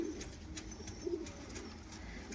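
Pigeons of crested and teddy breeds coo softly in a low, murmuring tone through the short stretch, with a couple of gentle coos standing out against quiet background noise and no talking.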